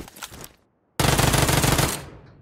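Automatic fire from an Uzi submachine gun in the mobile shooter Peacekeeper Elite: a short burst, a brief gap of silence, then a longer sustained rattling stream that fades at the end.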